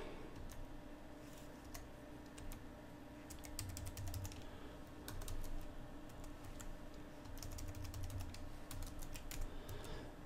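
Keyboard typing during a Windows 10 account setup, soft scattered keystrokes and short bursts of clicks sitting low under steady background hum, faint and fairly distant throughout.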